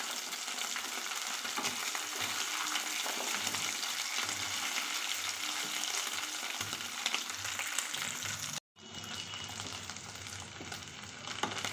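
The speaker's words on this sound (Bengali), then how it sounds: "এবার আমি আলুটাকে একটু লাল লাল করে ভেজে নেবো" Potatoes fry in a pan until browned, giving a constant, dense sizzle with faint stirring. A brief cut near the end is followed by slightly thinner frying noise.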